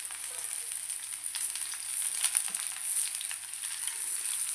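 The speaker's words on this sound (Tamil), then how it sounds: "இப்போ அதே எண்ணெயில் நம்ம எடுத்து வச்சுருக்கிற பிரண்டையை சேர்த்து நல்லா வதக்கி எடுத்துக்கோங்க." Pirandai (adamant creeper) sautéing in oil in a pan, a soft continuous hiss and crackle with faint stirring scrapes, fairly quiet and steady, no talking.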